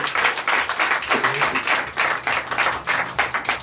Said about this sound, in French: Donnez encore de vive acclamation.